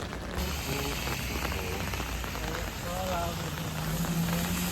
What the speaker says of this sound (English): walk to dinner in the rain.